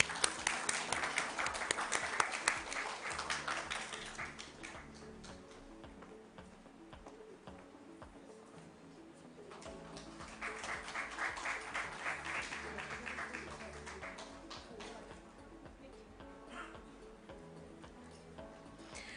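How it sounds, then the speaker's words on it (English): Two waves of audience applause at a company listing ceremony, loud and crowded clapping that fades to a quieter murmur between them. "A big round of applause, please."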